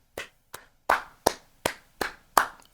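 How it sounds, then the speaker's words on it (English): Seven slow, separate hand claps ring out one at a time at an even pace, each sharp and close, with near silence between them. "Round of applause, yo"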